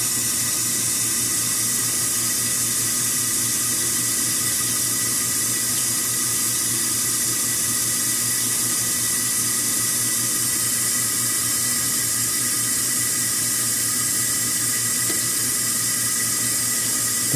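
Water rushes steadily inside a running KitchenAid Superba dishwasher, a constant hissing fill with a low mechanical hum underneath, close and unvarying throughout without any voices.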